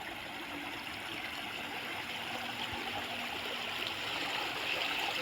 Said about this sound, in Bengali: একটা শীতল একটা পানির ঝর্ণা